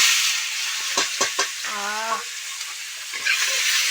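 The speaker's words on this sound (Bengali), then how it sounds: "এবার এই পেঁয়াজ কুচি আদা রসুন কুচি এগুলো দিয়ে দিচ্ছি" Chopped onion, ginger and garlic hit hot oil with cumin seeds and fry in a steady sizzle, broken by several scraping stirs and a brief tonal squeak midway.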